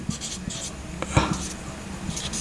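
Pen or marker strokes on a board or paper while working through a pair-of-straight-lines maths problem, with a few scratchy bursts and taps close by over a quiet room.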